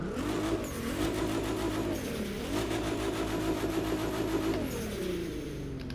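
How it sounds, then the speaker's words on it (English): A Nissan 370Z revs in The Crew 2 racing game, its engine note rising and falling in several sweeping pulls, loud and close with a buzzy, mid-pitched tone. "let's take a listen to the 370"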